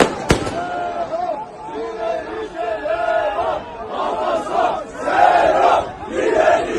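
A large crowd in Turkey chants and shouts in loud, rising waves, with a firework crack near the start and a dense wash of voices throughout.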